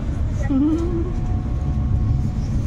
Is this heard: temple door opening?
no